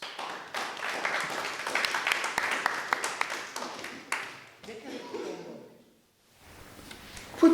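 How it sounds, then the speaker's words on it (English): An audience at a Global Dignity workshop claps for a participant, a fairly soft round of applause lasting about four seconds that tapers off into quiet room noise, with a voice speaking briefly afterward. "Let's give Nicola a round of applause."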